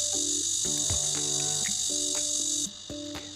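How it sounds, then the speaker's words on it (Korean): A male cicada sings in a steady, loud, high buzzing drone that continues throughout, close by and alone, with faint background sounds underneath. "매미의 울음소리는 사랑의 세레나데라고 볼 수 있는데요"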